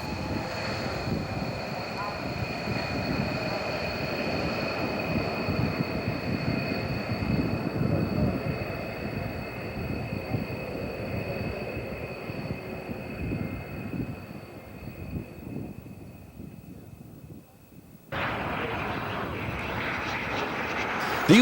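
A B-1 bomber jet flies past with a sustained roaring engine rumble and high whine, steady and loud throughout, briefly dipping before surging again near the end; a voice may be faintly present beneath.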